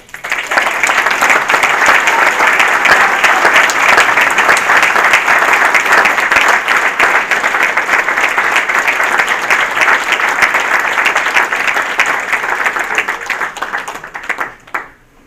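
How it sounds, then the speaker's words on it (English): A banquet crowd at a rod and gun club gives a loud, sustained round of applause and clapping lasting about fifteen seconds, dense and unbroken before it tapers off at the end. "I want to hear a big round of applause for Letty Baumgartner"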